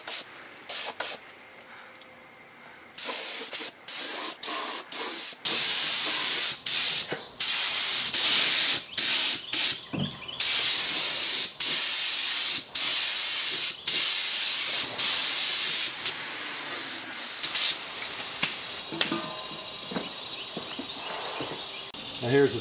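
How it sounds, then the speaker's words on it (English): A spray gun shoots a first coat of lacquer onto a refreshed mid-century modern desk outdoors, loud close hissing bursts that start and stop repeatedly, some brief and some held for several seconds. "So I'm going to shoot the first coat of lacquer as it is."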